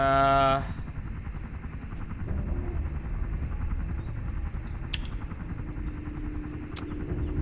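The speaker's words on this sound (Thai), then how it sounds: "เฮลิ คอปเตอร์จะขับไปส่งเราในอีกไม่ช้านะครับ" A helicopter in the video game LifeAfter gives a steady, loud rotor and engine drone that starts after a brief opening tone and holds without a break.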